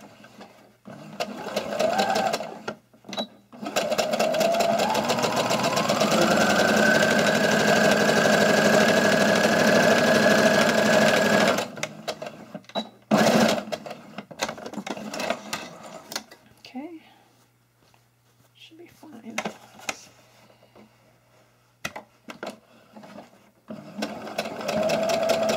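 A sewing machine stitches cloth face mask fabric with a bobbin that has been sounding off, a fast steady mechanical whir running about nine seconds, then short bursts of stitching and handling noise, with a person talking between runs.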